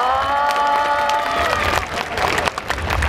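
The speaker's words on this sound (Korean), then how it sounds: "여러분 다시 한번 모모리네 박수 한번 부탁드리겠습니다." Music with sustained tones fades into a burst of crowd applause and cheering for a K-pop group at a concert, clapping loud and scattered toward the end.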